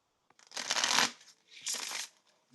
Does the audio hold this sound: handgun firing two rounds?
no